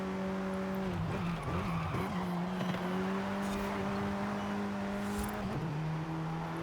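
A race car laps a circuit in the video game Forza Horizon 5, its engine droning steadily and loudly through held gears, with a couple of brief shifts and some tire noise, and no talk.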